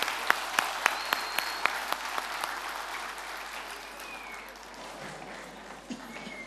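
A seated audience at an evening community gathering applauds as a speaker is welcomed to the podium, with a few sharp claps at the start swelling into steady applause that gradually fades over several seconds.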